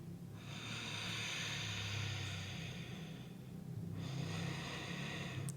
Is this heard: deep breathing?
yes